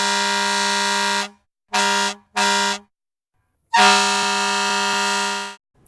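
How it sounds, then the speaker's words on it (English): Fire truck air horn in New York blaring a long blast, two short blasts, then another long blast, loud and brassy with sharp silent gaps, no voices. "The sound of the fire trucks when you're visiting New York, right?"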